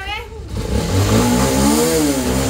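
A motorcycle engine revs up, its pitch climbing and holding in a throaty mid-range drone, while people talk and shout over it close by.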